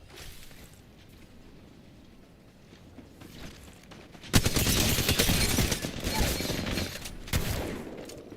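Rapid gunfire bursts out in a video game after a quiet lull, loud dense automatic shots rattling for several seconds with a brief dip and another volley near the end, no talking.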